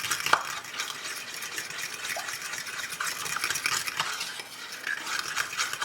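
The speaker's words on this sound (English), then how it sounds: "Keep stirring." Kudzu starch gravy being stirred in a pot, continuous scraping and swishing of a utensil with occasional light clinks and a soft bubbling sizzle underneath, close and steady.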